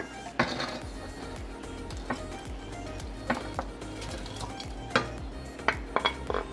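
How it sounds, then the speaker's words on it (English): Meatballs for Swedish meatballs being dropped into boiling broth in a pot, soft plops and metal clinks of a spoon against the pot over a steady bubbling, close and moderate in loudness. "Once the broth turns into a boil, like it has now, I will add my meatballs"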